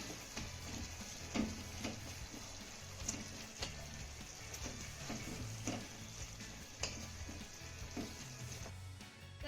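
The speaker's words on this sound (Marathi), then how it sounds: "आता चमचेच्या साह्याने हे द्राक्ष आपल्याला चांगले मॅश करून घ्यायचे" Cooked grapes being mashed with a spoon in a pan, soft squelching and repeated clicks of the spoon against the pan over a faint sizzle, close and fairly quiet, no talking.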